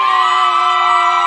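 A family cheering section yells at a high school football game between West Catholic and Allendale, a short, loud burst of sustained shouting heard from just below.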